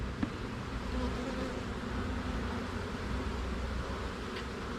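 Steady buzzing drone of many honeybees in flight near a hive box on an orientation flight, a continuous insect hum with no voices.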